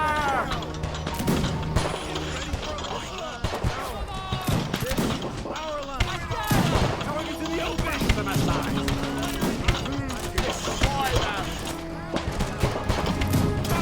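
Musket gunfire in an American Revolutionary War video game set at Lexington and Concord: dense, continuous volleys of overlapping shots and thuds, with voices heard amid the battle.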